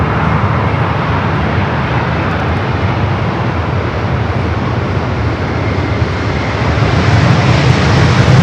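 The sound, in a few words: Boeing 787 Dreamliner airliner at LAX airport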